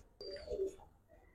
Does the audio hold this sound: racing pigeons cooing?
yes